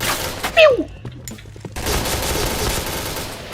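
Gunfire in the shooter game Point Blank crackles in a brief burst followed by a longer stretch of rapid, noisy shooting, with a short vocal sound near the start.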